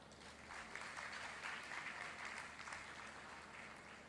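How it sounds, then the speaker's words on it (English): Audience clapping at a women's day conference, a faint, distant, even patter of applause sustained throughout. "So I think we need to clap to that."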